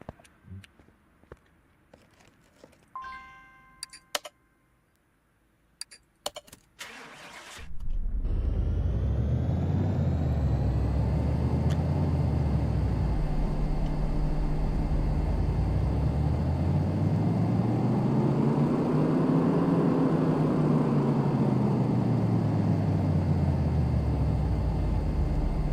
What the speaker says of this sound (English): We're going to run a dyno test on it.